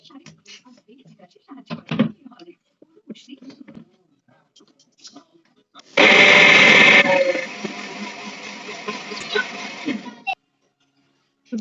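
A kitchen grinder whirs loudly as it blends soaked urad dal and parboiled rice into paste, starting abruptly and running about four seconds. Its pitch drops slightly as it settles before cutting off. Quiet speech and small handling noises come before it.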